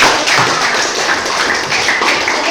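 A classroom of students applauds together. The clapping is loud, dense and continuous for a couple of seconds, with no talking over it.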